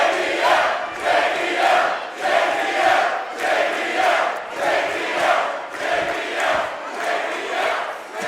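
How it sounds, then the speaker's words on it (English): Wrestling arena crowd roaring wildly for returning legends Gangrel and JBL in the ring, a dense, loud, sustained wall of cheering and yelling that surges in rhythmic waves, like a chant, with no clear talk on top. "This crowd is going absolutely nuts here tonight for these legends"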